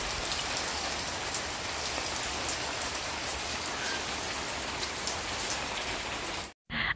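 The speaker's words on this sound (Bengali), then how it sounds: "কি সুন্দর বৃষ্টি!" Steady rain falls on surfaces outdoors in the morning, a dense, even patter close by that runs unbroken until a brief cut near the end.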